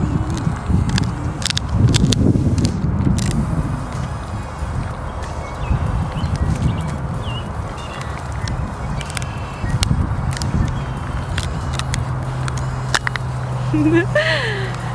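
A dog gnaws on a wooden stick, giving intermittent crunches, snaps and sharp cracks up close while people talk throughout.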